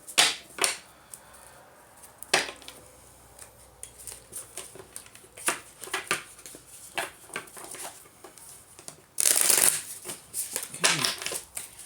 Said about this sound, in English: I'll give this a quick shuffle.